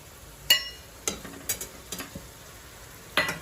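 Turmeric, chilli powder and coriander-cumin powder sizzle briefly in a pan while being mixed, with a few separate sharp scraping stirs spaced out over a quiet background.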